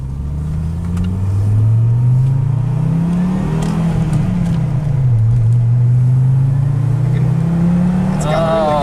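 A 1995 Audi Ur S6 with its original exhaust accelerating on a drive, heard from inside as a loud, steady engine note climbing and dipping through the gears.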